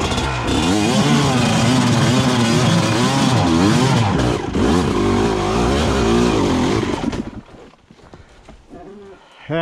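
A stuck vehicle's engine revs hard and steadily for several seconds while its wheels spin without grip, loud and close, before the noise drops away and leaves quieter, scattered sounds.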